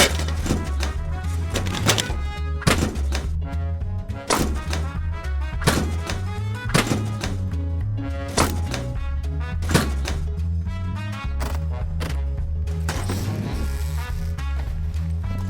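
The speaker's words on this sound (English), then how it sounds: "I just need to break the lock." A suitcase lock being forced and broken in a dramatized scene, heard as a series of sharp, loud knocks and thunks spaced a second or two apart over a steady low background.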